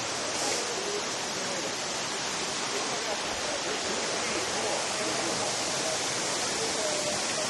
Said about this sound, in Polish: dotarliśmy do tego głównego wodospadu